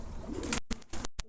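Silver pigeons coo in a low, throaty burble, broken by several sharp bursts of handling or wing noise close by.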